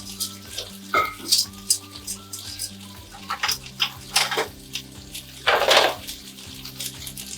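Chicken and peppers stir-frying in a pan, with a steady sizzle and scattered metal utensil clatter against the pan, a loud burst of frying hiss near the end, close and without talk.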